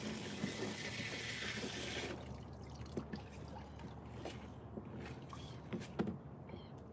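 Water runs from a garden hose in a garden with a steady, close rushing hiss that turns into a softer trickle and splatter after the first couple of seconds. Occasional small splashes break through, and nobody speaks.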